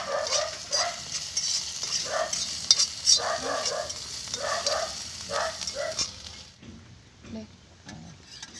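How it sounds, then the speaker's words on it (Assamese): Ginger, garlic and chili spitting and sizzling in hot oil in a home kitchen pan, with repeated bursts of stirring over a steady fry, close and moderately loud, tapering off near the end. "ভাজি ল'ম এতিয়া।"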